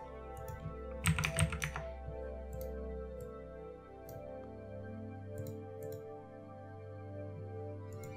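Light clicking keystrokes on a computer keyboard, close and fairly quiet, with a quick cluster of taps early on and then scattered single clicks over a steady low hum; no talking.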